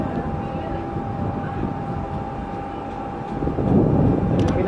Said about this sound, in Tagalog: Pinapainit na makina eh.